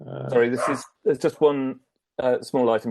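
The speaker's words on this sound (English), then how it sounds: "I apologise for the barking in the background." A dog barks in short bursts close by while a person speaks over it in a meeting setting.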